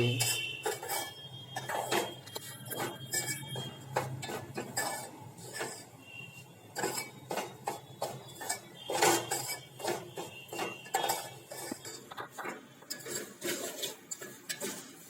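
Semolina roasting in desi ghee in a pan, stirred with a metal spoon: repeated scraping and clinking strokes against the pan in an uneven rhythm, close and moderately quiet, with no talk.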